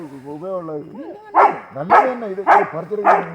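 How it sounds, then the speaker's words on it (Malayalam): A dog barks four times in a steady rhythm, close by at a house in Wayanad, after a person's voice talks at the start. "അവൻ കിടന്ന് കുരയ്ക്കുന്നു കേട്ടോ"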